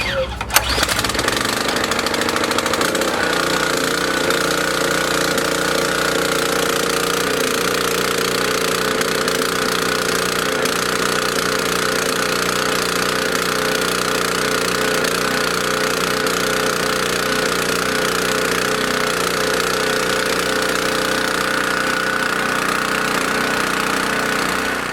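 An engine treated with fuel additive cranks and catches with a sharp burst, then settles into a loud, steady, chugging run that carries on without stopping.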